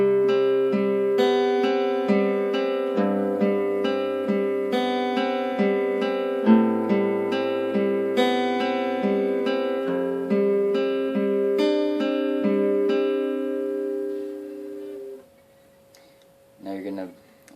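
Acoustic guitar fingerpicking pattern for a song, played slowly: steady arpeggiated notes over about fifteen seconds, clear and close, then stopping with a brief handling noise.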